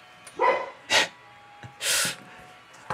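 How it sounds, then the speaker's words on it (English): A few sharp dog barks, fairly near but moderately loud, spaced irregularly over a few seconds against a quiet room. "there goes my dog, barking at the mailman."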